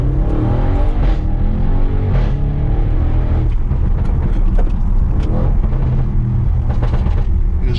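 Car engine droning and rumbling steadily as the car accelerates and merges into traffic, loud and continuous with some passing road noise.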